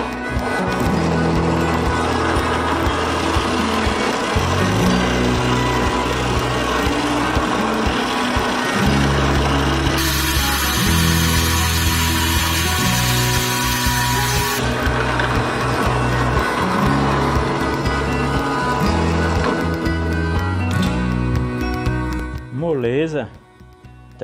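A bench drill bit cuts into wood: a loud, steady motor hum with a rougher, harsher cutting stretch partway through. Someone talks throughout.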